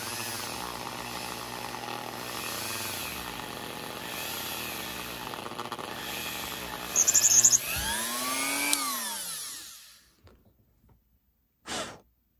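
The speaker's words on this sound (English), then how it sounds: "I'm going to use this drill, which this piece kind of matches up with this hole, just to widen it." A small drill widening a hole in a plastic wrestling action figure piece, a continuous whirring motor buzz lasting several seconds with shifting pitch, ending in a descending spin-down, close with no talk, then a brief burst near the end.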